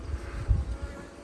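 Honeybees buzz at a hive in a village apiary, a close low drone with a brief louder swell in the middle and no talking.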